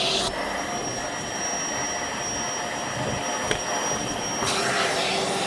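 A Bissell vacuum cleaner fitted with a lighted crevice tip runs steadily and loudly, with a constant high whine over broadband airflow roar. The whine cuts out near the end and the suction rush shifts.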